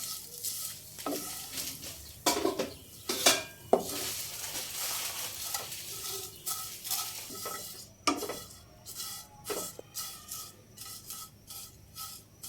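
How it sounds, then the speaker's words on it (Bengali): Vermicelli (semai) being turned and fried in a pan for a festive Ramadan sweet, with steady soft sizzling broken by repeated scraping clinks of a spatula against the metal; no talking. "উপর নিচ করে উল্টিয়ে ভেজে নিব যাতে পুড়ে না যায়।"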